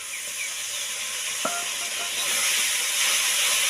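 A pan of cumin powder masala hisses and sizzles as water goes in, a steady broad close-up hiss that swells slightly toward the end, with one small click partway through.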